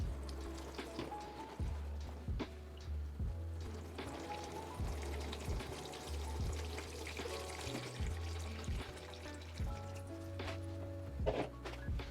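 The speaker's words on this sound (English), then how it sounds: "I need to get some water and we will flush her through" Water running and pouring to flush a freshly repotted houseplant in fertilized potting mix, a steady splashing stream near a sink with a few hollow thunks of handling throughout.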